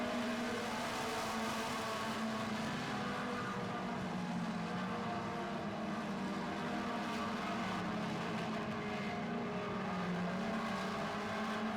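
Four-cylinder feature race cars roar around an oval racetrack, engines droning steadily and overlapping as the pack runs side by side, a continuous loud wash of motor noise with no breaks.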